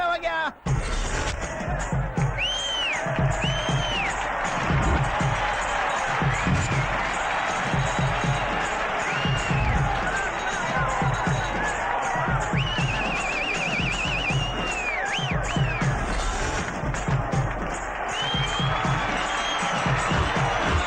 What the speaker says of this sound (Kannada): ನೀವು ಜೋರ ಚಪ್ಪಾಳೆ ತಟ್ಟಿ,